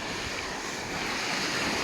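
Sea waves roll in at Cala Varques beach on Mallorca, a broad continuous surf roar with wind buffeting the microphone, steady and fairly loud with no talking.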